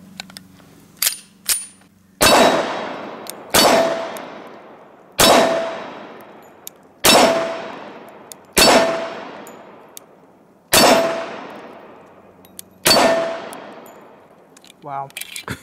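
A Sig Sauer Emperor Scorpion 1911 pistol fired at a range, seven loud, sharp shots spaced about one and a half to two seconds apart, each ringing out and decaying, with faint clicks of handling before and after.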